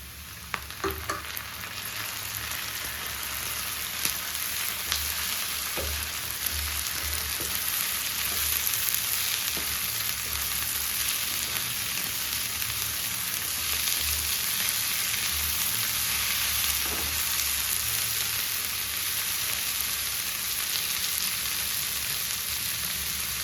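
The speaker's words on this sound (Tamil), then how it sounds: "ஒரு 2 நிமிஷம் ஸ்லிம்மில் கொஞ்சம் வதங்க விடலாம்" Onions and tomatoes sauté in oil in a pan for a spicy tamarind curry, giving a steady, even sizzle and crackle that holds at a constant level from start to finish, with no talking.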